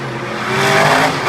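A monster truck at a freestyle run in West Lebanon, its big engine roaring loudly and revving higher over a short burst, with tire noise mixed into the rough drone.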